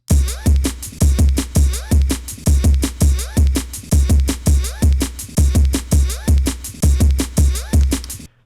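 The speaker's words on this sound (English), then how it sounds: "I have a nice grouped up set of drums that consists of a break." A looped drum break with punchy kicks and crisp snares in a steady fast groove, backed by a constant hiss of vinyl-style noise.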